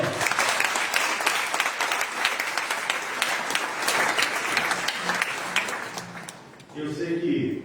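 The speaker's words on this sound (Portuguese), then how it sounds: "Você pode aplaudir o Senhor?" A church congregation claps for the Lord in a broad, lively burst of applause with scattered voices, the clapping thinning toward the end before a preacher's voice returns in the final second.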